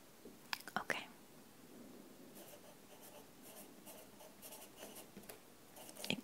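Pen writing on paper during a gentle ASMR role play, heard as soft close scratching strokes in short bursts, with faint whispering around them.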